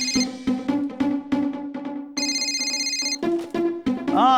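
A telephone rings in repeated electronic bursts, interleaved with a voice talking over and between the rings.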